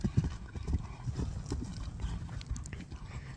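A Kyrgyz horse being led at a slow walk, its hooves clip-clopping in an uneven rhythm close by, with outdoor background noise and a voice talking over it.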